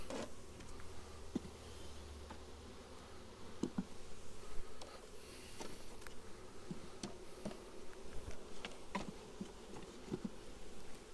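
Honey bees hum and buzz continuously at close range while a package of bees is installed into a new hive, a steady droning swarm with occasional ticks and bumps from handling.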